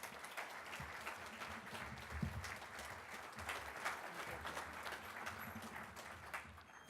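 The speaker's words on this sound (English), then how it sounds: "Let's give Patricia a round of applause" A crowd at a University of Massachusetts Boston parking garage groundbreaking celebration gives sustained applause, with dense, even clapping throughout and a faint voice underneath.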